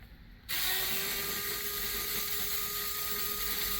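A power screwdriver or ratcheting tool starts abruptly and runs as a steady whirring, buzzing drone while loosening screws on a Tippmann TCR paintball marker during disassembly, close and continuous with no talk.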